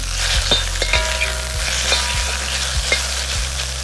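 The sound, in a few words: stir-frying shredded pork in hot oil in a wok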